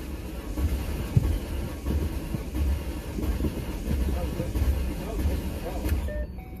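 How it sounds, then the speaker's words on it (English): The engine of a 2010 Ford Mustang, misfiring on one cylinder, runs rough: a continuous, uneven low rumble with lumpy pulsing that stays steady for several seconds, then cuts off abruptly. "Sounds like it's got a dead hole in the engine on one of the cylinders."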